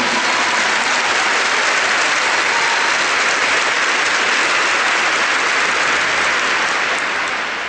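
A church congregation at a Mass led by Padre Rufus claps loudly and continuously for the Lord, a dense, even wall of hands that holds steady and eases slightly at the end.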